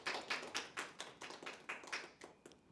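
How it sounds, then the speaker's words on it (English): A small audience at an alumni talk event applauds briefly with sparse, distinct claps in an uneven rhythm, fairly faint and fading toward the end. "Give it applause for her."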